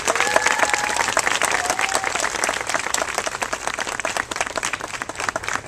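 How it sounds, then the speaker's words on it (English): Outdoor audience at a garden anniversary ceremony breaks into sustained applause, a dense, even patter of many hands with faint voices and whoops mixed in. "So let's give all of them a round of applause."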